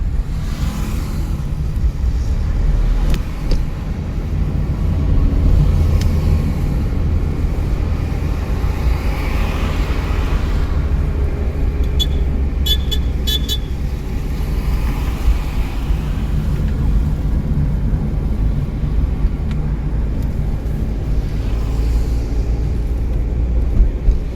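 From inside a car during a driving lesson in Solan, the engine drones low and steady for the whole stretch, a continuous close rumble with a few faint clicks and no clear voices.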